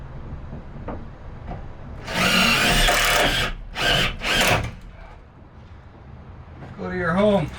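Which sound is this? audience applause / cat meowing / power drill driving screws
power drill driving screws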